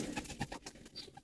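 Breeding pigeons in a loft give a short burst of soft, throaty cooing, faint and close, with no talk over it.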